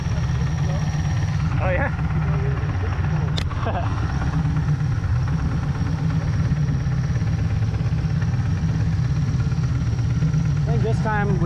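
Supercharged LS V8 in a jet boat runs at a steady, loud idle, a continuous low drone close to the microphone, with brief speech over it.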